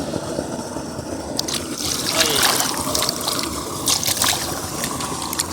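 Water from a running tubewell pours and splashes continuously at close range, a steady rushing trickle with scattered brighter splashes.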